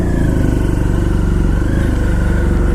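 A red motorcycle, a BMW S1000R sportbike, idles with a steady, throbbing engine note close by. It runs continuously and fairly loudly, with no voices over it.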